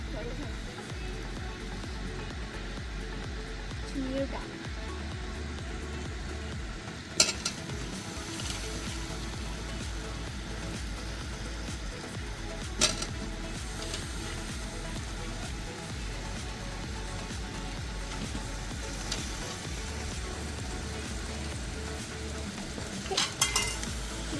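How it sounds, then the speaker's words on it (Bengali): Potatoes dropped into hot oil at a rooftop winter picnic, sizzling and frying steadily with occasional utensil clinks, while people talk over it throughout. "এবার আলুগুলো সব দিচ্ছি"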